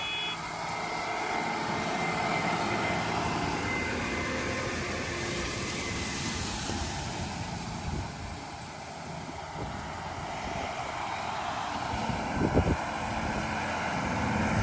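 A tractor pulling a disk tillage tool through a field, heard as a continuous broad engine drone from a distance with wind noise on the microphone and a faint clank near the end.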